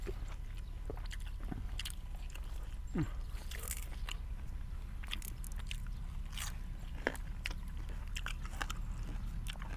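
Chewing a mouthful of raw fish salad with red ants and sticky rice outdoors in a rice field, with close, soft wet crunching bites repeating steadily against a faint background hum.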